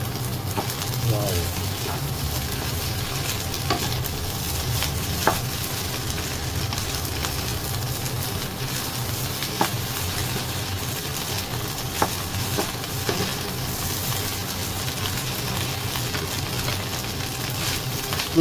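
Fried rice sizzling and being stirred in a hot pan at home, a steady crackling fry with occasional scrape clicks from a spatula, continuous and close.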